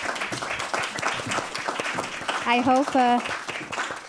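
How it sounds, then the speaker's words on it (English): Applause breaks out from an audience, a dense patter of clapping under a voice speaking, with a short sung or sustained tone rising in the middle. "Can I have a big round of applause"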